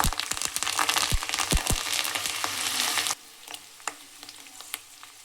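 Curry leaves hit hot oil for tomato rasam, a loud crackling sizzle for a few seconds that suddenly drops to a quiet simmer with occasional small pops.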